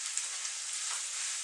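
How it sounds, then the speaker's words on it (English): Kidney beans and chopped tomato heat in a frying pan, giving a steady close sizzle with small crackling pops throughout. "We've got our kidney beans and chopped tomato concoction sort of just getting nice and hot"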